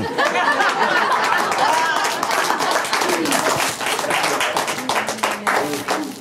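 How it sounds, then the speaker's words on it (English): Audience applause at a live stage act, a dense patter of many hands clapping steadily for several seconds, with crowd chatter and voices mixed in underneath. "I can't help but notice that the applause seems to be forced."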